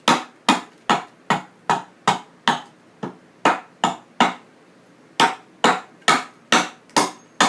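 Steel adze chopping out the hollow of a wooden bowl: about fourteen sharp, close, loud wooden thunks in a steady rhythm, with a brief pause near the middle before the strikes resume.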